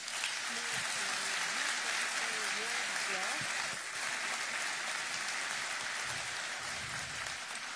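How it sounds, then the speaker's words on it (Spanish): Closing applause for the moderator and speakers at an international security and defense symposium, steady broadband clapping from a seated audience, with a voice speaking over the first part. "nos despedimos con un fuerte aplauso"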